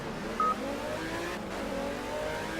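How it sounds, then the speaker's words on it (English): Race car engine in the Project Cars video game, a steady loud drone with tonal engine harmonics held close throughout, shifting pitch slightly as it runs. "This car is loud."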